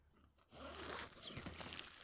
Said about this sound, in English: The zips seem nice.